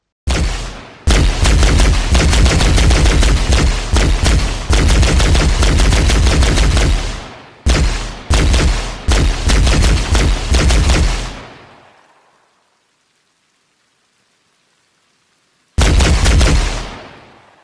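Loud, close bursts of automatic weapon fire from Halo Reach-style guns in a modded Arma Reforger game, coming in long rapid strings separated by short pauses, then a long silence before a final burst.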